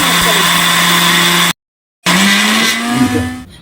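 An electric mixer grinder blends coriander with a little water, two loud continuous motor runs split by a brief half-second stop.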